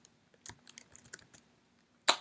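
Computer keyboard keys tapped in a few short irregular bursts of clicks, close and fairly quiet, ending with one louder sharp keystroke.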